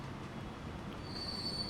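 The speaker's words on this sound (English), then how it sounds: "Oil train leaving." A train in the Transport Fever 2 video game pulls out with a steady rolling rumble, and a thin, high metallic wheel squeal rises and holds through the last half.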